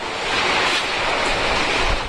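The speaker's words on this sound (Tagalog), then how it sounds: "Nandito tayo ngayon sa may pier ng Tacloban at napakalakas na ng hangin" Strong typhoon wind roaring at the pier in Tacloban City, a loud, steady broadband rush with no pauses, mixed with surf-like noise and wind buffeting the microphone.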